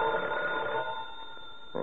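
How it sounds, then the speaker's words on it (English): A telephone rings as a sound effect in a radio suspense drama, a steady bell tone sustained through the moment and heard alone with no voices. "Just when things start getting dull, the phone rings."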